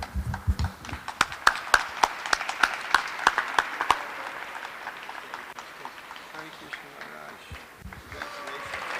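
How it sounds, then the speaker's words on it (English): An audience at a presentation event applauds, with a burst of sharp, uneven claps that thins out and fades over several seconds while voices talk underneath. "A big hands, a standing ovation, not sitting and clapping."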